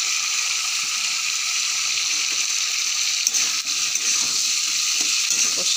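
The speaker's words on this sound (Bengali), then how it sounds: "আর এই সবজিগুলো দিয়ে দিলাম। এই সবজিগুলো দিয়ে একটু কষিয়ে নেব।" Mixed vegetables sauté in a hot pan with onion, crushed ginger and panch phoron. A steady, loud sizzle and crackle runs throughout, with light stirring scrapes close by.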